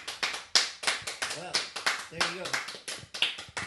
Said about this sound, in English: That deserves applause, guys.